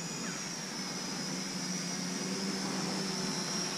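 An SJRC Z5 drone in flight gives off a steady high-pitched motor whine and propeller buzz at an even, fairly close level throughout.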